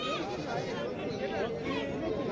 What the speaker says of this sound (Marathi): अशा पद्धतीने आपल्या शेळ्या येत असतात.